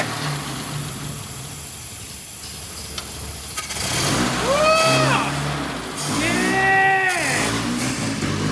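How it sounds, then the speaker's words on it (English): A 58-year-old English engine runs with its fuel regulated by hand, rising from a rough idle into steady labouring revs with wavering, surging pitch, loud and close, while voices talk over it. "James is currently trying to be the carburetor to monitor and regulate the fuel on the fly"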